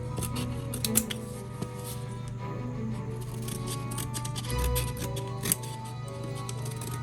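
Sharp snips cut carefully through the hull of a small model boat, scattered crisp clicks and cuts close by over a low steady hum, without speech.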